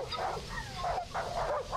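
A wounded dog in the dark survival horror game Darkwood whimpers and cries while lying on the ground, a close, continuous run of wavering high whines and yelps.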